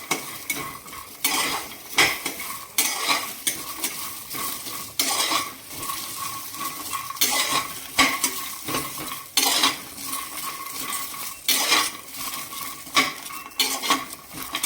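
Garlic and green chillies sautéed in a pan for mint chutney, with repeated scraping and clinking of a metal spoon against the pan over a soft sizzle, in irregular bursts.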